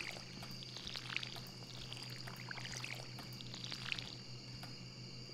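Soft splashing water sounds from watering crops in the farming video game Stardew Valley, with a couple of brighter splash accents over a steady game background ambience, no talking.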